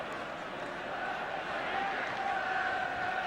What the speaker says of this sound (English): the applause in the background is for the arrival of Gary Mabbutt